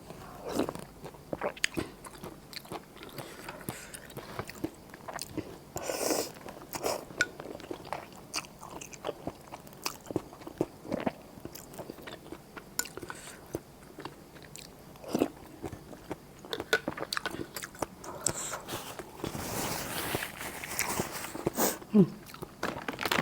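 Crispy pork cracklings chewed up close, with steady crunching and biting that continues throughout and occasional voice mixed in.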